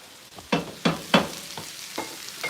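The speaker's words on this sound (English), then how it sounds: "He's sauteing these" Vegetables sauté in a hot pan for creamy chicken noodles, with several close, rhythmic stirring scrapes over a gentle sizzle.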